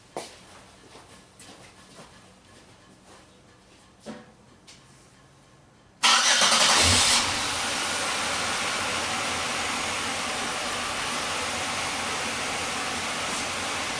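A car engine turns over at the six-second mark after quiet clicks and handling noises, then settles into a loud, steady idle that runs on without a break.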